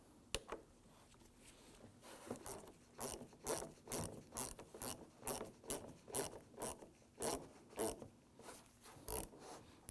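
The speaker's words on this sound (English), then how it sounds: "Let's go ahead and get that screw installed." A screw is driven into the camera handle of a Ford F-150 rear park assist camera, making a faint series of rapid ratcheting clicks that repeat in quick rhythmic bursts, close up and alone.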